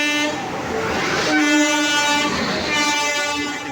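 At an Indian railway station on the Chennai to Varanasi route, a train's horn sounds in long tonal blasts over station rumble, swelling and easing across a few seconds with a faint background murmur.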